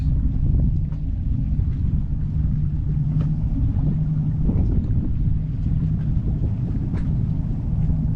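A boat engine running in gear on tidal water, a continuous low throbbing rumble with wind buffeting the microphone, steady and close throughout with no talk.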